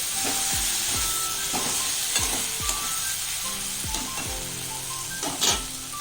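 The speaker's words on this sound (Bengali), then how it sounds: "এবারে আমি ভেজে রাখা আলুগুলোকে দিয়ে দেবো" Pre-fried potatoes sizzle steadily in oil with spices in a pan for a cabbage curry, while a spatula scrapes and stirs in regular strokes close by.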